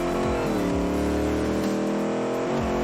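A car engine in BeamNG roars loudly and continuously, rising and falling in pitch as it revs through repeated climbs and drops, dominating the sound with no talk.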